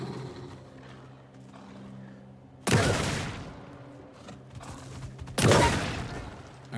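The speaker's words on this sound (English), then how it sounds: "Don't make me break out the shotgun." Two heavy shotgun blasts boom in Alan Wake 2, a few seconds apart, each loud and sudden with a ringing tail, over a quiet droning ambience.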